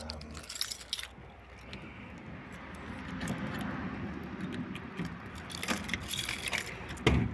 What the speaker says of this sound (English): Now I'm going to open up the boot or the trunk.